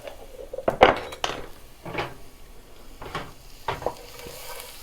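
Curry powder and salt being stirred into hot fat in a pan for chickpea and spinach curry, a low sizzle under a series of distinct scraping strokes and clacks of a utensil against the pan, close and fairly loud.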